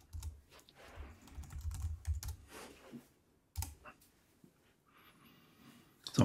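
A computer keyboard is typed on quickly as a terminal install command is entered, with bursts of close, crisp key clicks, a short pause, then a few more keystrokes ending in a firmer tap.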